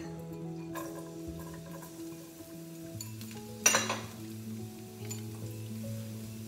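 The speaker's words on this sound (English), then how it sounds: "garlic and onions and stir fry them for like 30 seconds" Garlic sizzles in a hot pan for Thai shrimp fried rice, with a spatula scraping and clinking against the pan. A sharp burst of sizzle comes midway as more goes in.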